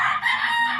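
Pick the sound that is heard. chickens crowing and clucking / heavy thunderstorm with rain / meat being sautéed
chickens crowing and clucking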